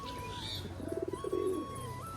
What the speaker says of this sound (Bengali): পায়রাটার ডাকটা ভালো পায়রাটাও ভালো